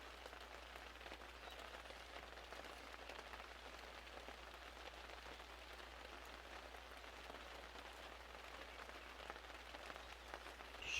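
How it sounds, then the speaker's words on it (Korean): Steady rain falls around a mountain-village spot during outdoor meat grilling, a dense, even patter with no breaks, fairly soft and constant throughout, and no one speaking. "비가 온다"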